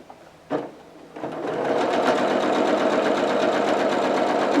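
A sewing machine stitches quilt strips together with a quarter-inch seam, starting with a couple of short bursts and then running steadily and close up in a continuous whirring drone, with no talking.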